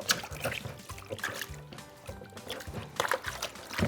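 Water is poured and trickles during washing, with uneven splashing and dribbling close by at a low level, mixed with faint household sounds.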